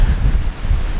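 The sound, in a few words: strong wind blowing into microphone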